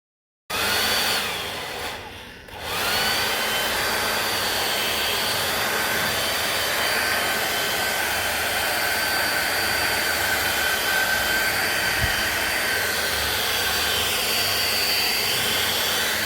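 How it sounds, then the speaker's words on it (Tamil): A handheld hair dryer switches on and runs on its cool air setting, a loud, steady whooshing blow that holds evenly for about fifteen seconds with no speech. "இப்போ நான் இதை ஆன் பண்ணிக்க போகிறேன் ஹேர் ட்ரையரை."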